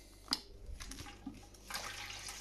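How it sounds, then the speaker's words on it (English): Water runs from the tap of a Brewzilla brewing system, a soft, splashing trickle with a sharp drip-like click early on and the flow growing fuller toward the end, fairly faint. "You see the water coming out there."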